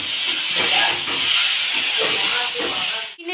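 A pressure cooker boiling chickpeas in a home kitchen, apparently not working quite right, lets out a steady, loud, broadband steam hiss that continues almost unbroken before cutting off abruptly near the end.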